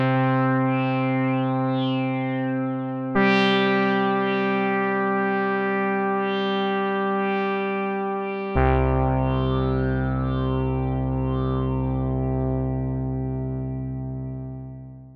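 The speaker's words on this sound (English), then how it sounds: "Let's use oscillator 2's fractalized section to create a hard sync effect" A u-he Bazille synth saw oscillator with a hard sync effect sustains a bright, buzzy tone whose harmonics sweep as the sync knob turns, jumping in pitch twice, loud and solo before fading at the end.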